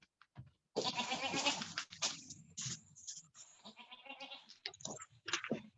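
A goat bleats in several loud, wavering cries with short pauses between them, heard close and clear against a quiet background, with some soft crunching in the gaps.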